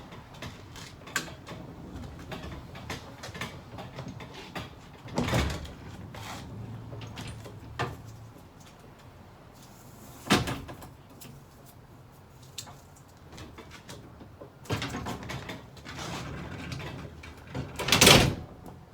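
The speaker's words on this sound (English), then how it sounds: "Shut your first door." A door on a Grand Design Momentum G-Class 320G fifth-wheel toy hauler swings shut, with a few distinct thuds and latch clunks spread through a quiet interior, the loudest bang near the end.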